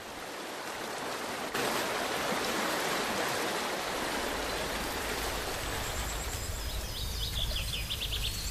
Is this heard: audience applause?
no